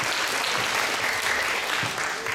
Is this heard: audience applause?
yes